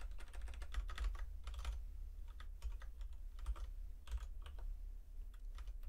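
Code being typed on a computer keyboard, a quick run of soft, close key clicks in bursts with brief pauses.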